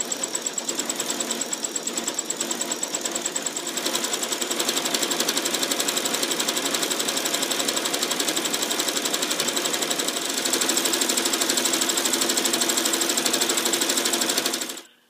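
A sewing machine stitches steadily while thread painting a blossom scallop, a fast, even mechanical rattle running for about fifteen seconds before cutting off.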